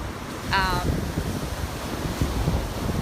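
Rough ocean surf crashes continuously on a beach in strong wind, with loud broadband wash and wind buffeting the microphone, plus a brief tonal chirp near the start.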